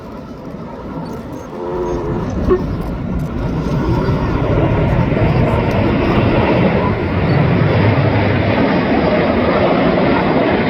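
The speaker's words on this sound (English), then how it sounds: "That front section of aircraft are flying with their air brake out." Red Arrows jet aircraft fly in formation over Blackpool, some with air brakes extended, their engines a loud, broad roar that builds and holds steady from a distance, with a commentator talking faintly underneath.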